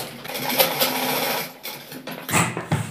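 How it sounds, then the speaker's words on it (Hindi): Sewing machine stitching a side pocket onto pajamas, a quick mechanical whir with rattling needle strokes that run, pause briefly, then resume in short bursts, close and clear. "यहाँ से हम सिलाई की मदद से इसको अटैच करेंगे और बाहर की ओर सिलाई लगाएंगे"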